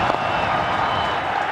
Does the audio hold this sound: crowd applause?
yes